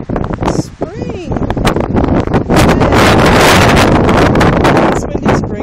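Strong wind buffets the microphone at a beach at Te Atatu, New Zealand, in spring, loud gusty roaring that builds and holds, with people speaking briefly near the start.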